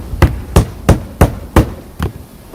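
Six sharp, evenly spaced hammer blows driving nails into shingles on a shed roof, close and loud, each strike a distinct knock with brief gaps between.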